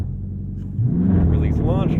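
Dodge Charger Scat Pack Widebody V8 held on launch control, the engine idling low and then surging to a loud, sustained rev as the throttle is pinned, heard from inside the car.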